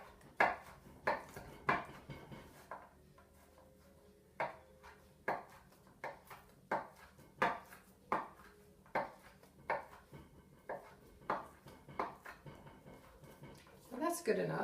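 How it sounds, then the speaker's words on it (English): A knife rough-chops pitted dates on a cutting board for buttermilk scones, about twenty crisp, evenly spaced taps in a steady unhurried rhythm, close and fairly quiet. "And then I'm just going to rough chop them."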